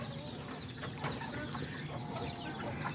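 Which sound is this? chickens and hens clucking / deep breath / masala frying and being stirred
chickens and hens clucking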